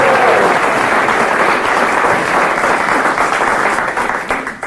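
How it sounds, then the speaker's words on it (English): Dense, loud applause from a theatre audience greeting a much-loved singing duo, sustained throughout and tapering slightly at the end, with no talk over it. "Daphne, Cyril, you can tell from the applause just how much your public loves you."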